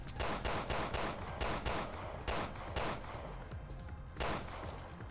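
Gunshots in the Resident Evil Revelations 2 video game ring out as a steady run of loud, close, evenly spaced shots, with a brief pause before the final blast.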